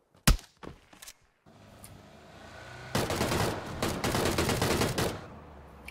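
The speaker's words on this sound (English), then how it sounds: "I'm getting shot at." PUBG gunfire: a few scattered single shots at first, then sustained rapid automatic bursts that rattle on loudly for several seconds.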